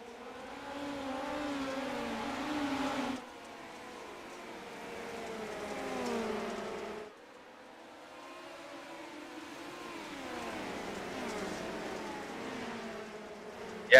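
Wingless midget race cars circle the I-55 dirt track, their engines a continuous distant drone with rising and falling revs as cars pass, fading and swelling in waves with no voices.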